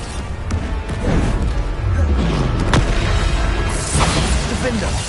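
A Bombarda spell explosion in Hogwarts Legacy: loud booming blasts with crackling bursts and rumbling debris, dense and sustained over the game's battle noise, with a voice calling out spells.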